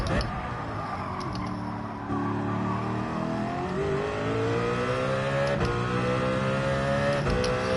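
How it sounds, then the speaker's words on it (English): A race car engine in Gran Turismo 7 revving hard, its pitch climbing steadily as it accelerates, loud and sustained with a few shifts, a voice talking faintly over it. "I'm just going to rev the nuts out of this shit"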